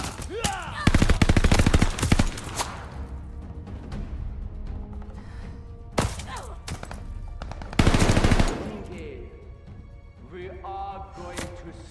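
In the video game Call of Duty: Vanguard, a rifle fires in loud, rapid automatic bursts close by, with several separate volleys and single shots between quieter stretches of game ambience and faint voices.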